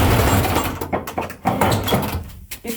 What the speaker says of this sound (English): Oh, that's got sound. Well, that's a door and a half.